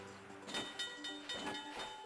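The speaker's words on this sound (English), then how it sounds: "I hope the sounds of this train soothe you." A train rolls along in the Nintendo DS game Spirit Tracks, a steady rumble with rhythmic clacking bursts and a faint high whine, moderately quiet throughout.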